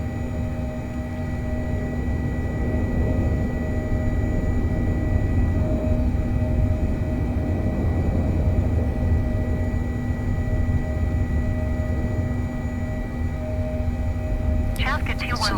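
A Boeing 707-320C taxis in Microsoft Flight Simulator 2020 with a steady, loud jet-engine whine and hum running unbroken throughout, ending with a brief chirping sound.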